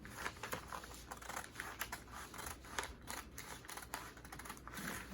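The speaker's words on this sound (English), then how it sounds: "I'm just going to go ahead and cut out the yoke" Scissors snip through dress fabric while cutting out a yoke, giving a steady run of crisp, close, quiet cutting clicks with no talk.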